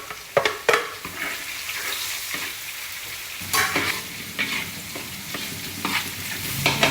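Onions fry in a pan for low-carb dinuguan, a loud close sizzle with scattered stirring knocks and scrapes, sharp hits at the start and again midway.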